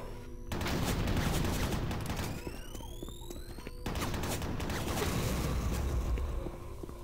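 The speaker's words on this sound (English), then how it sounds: "Oh, he has a chain gun." Rapid chaingun fire in the video game Doom 3, a loud sustained burst of overlapping shots and explosions with a short lull midway before the shooting resumes at full intensity.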